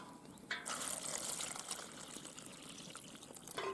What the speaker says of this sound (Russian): И наливаем воду.